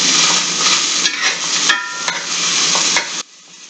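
Turnips and potatoes tossed and stirred in a hot cast iron skillet, a loud close sizzle with a few sharp scraping clicks, which cuts off to near quiet at the very end.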